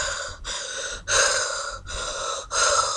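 A person's voice imitates breathing really hard through the mouth, five loud, rasping gasping breaths in a steady rhythm, close up with no other sound.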